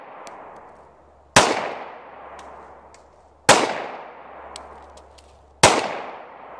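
Three loud, evenly spaced shots from a German P08 Luger pistol, roughly two seconds apart, each a sharp crack trailing into a brief echoing decay over low background hum.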